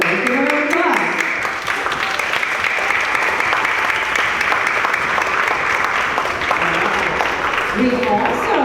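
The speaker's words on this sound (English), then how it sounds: "Let's give them a round of applause." A school auditorium audience at a spring band and orchestra concert claps steadily and loudly for young honors orchestra students, with voices audible at the start and end of the clapping.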